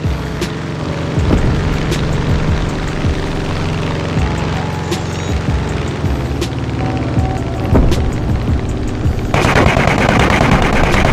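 Continuous rapid machine gun fire in the video game War Thunder Mobile, a T-34 tank battle, in a loud, dense soundscape with engine drone and booms underneath throughout.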